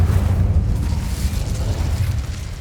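Incendio fire spell cast in the Hogwarts Legacy video game, a loud, rumbling, sustained blast of flame and boom, close and continuous throughout.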